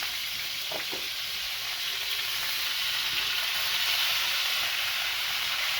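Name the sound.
food frying in an old cast iron skillet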